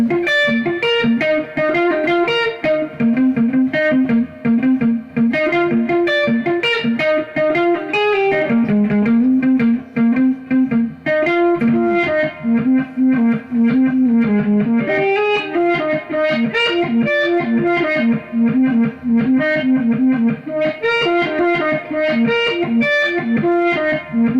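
A distorted, effects-heavy guitar riff played backwards, with swelling attacks and a looping melodic phrase, loud and continuous with no talking.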